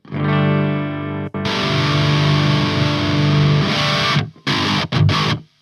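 A heavily distorted electric guitar plays through a Line 6 HX Effects metal preset into a Laney amp, loud and saturated, with sustained chords and abrupt stops and short bursts near the end.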